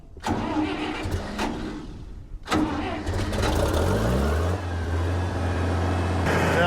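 A Farmall 706 tractor engine cranks briefly, catches and starts, then settles into a steady, loud idle close by, running alone without talk.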